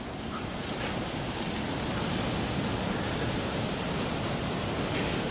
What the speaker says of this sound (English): Real windy tonight.